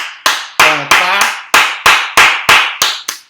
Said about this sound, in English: going to clap